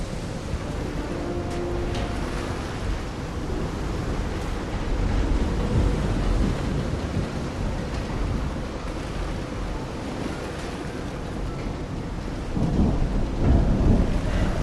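Thunderstorm over a beach in the video game Call of the Sea, with steady heavy rain and deep rolling thunder rumbling throughout and swelling louder toward the end, no voices.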